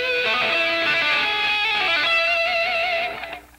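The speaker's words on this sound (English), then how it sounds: "Also, you can tap that with your forefinger or second finger." Distorted electric guitar octaves tapped with the forefinger, a dense, sustained stream of rapid notes that plays loud and alone before cutting off at the end.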